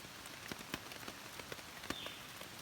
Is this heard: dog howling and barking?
no